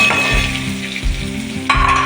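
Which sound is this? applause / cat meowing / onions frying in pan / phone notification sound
onions frying in pan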